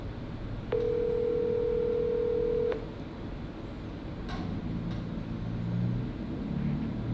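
An outgoing phone call rings during a cold call. A single steady ring tone lasts about two seconds, followed by quiet low rumble with a couple of faint clicks.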